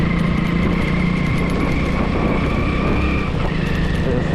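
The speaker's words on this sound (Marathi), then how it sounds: "स्प्लेंडर गाडी आहे" Hero Splendor motorcycle engine running while riding, a steady continuous hum with wind and road noise, moderately loud and unbroken throughout.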